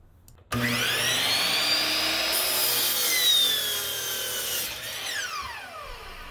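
A table saw rips a wooden board for a cutting board: the motor's whine swells suddenly and stays loud and close as the blade cuts through for several seconds, then slowly tapers off, with no voices.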